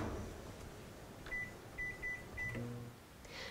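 A microwave oven cooking chopped onions in bacon drippings hums steadily, then gives a short series of four sharp electronic beeps, followed by a faint door or latch clatter near the end.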